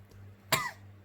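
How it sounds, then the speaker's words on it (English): A single short, sharp cough from a woman indoors, close and sudden against a faint steady hum, ending quickly with no talk. "just a random cough"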